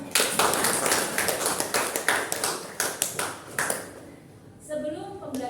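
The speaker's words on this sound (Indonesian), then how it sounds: "Beri aplaus untuk kita semuanya." A class applauds together in a burst of sharp, scattered claps that fades after a few seconds, and a voice speaks briefly once it stops.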